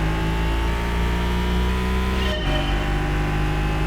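An Audi R8 engine in Gran Turismo 5 drones loudly and steadily at a race start, its pitch holding high then dropping sharply as the revs fall before settling again.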